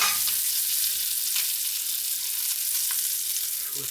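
Bacon-wrapped hot dogs sizzle steadily in a hot pan, a continuous bright crackling hiss with a few sharper pops, close up and without speech.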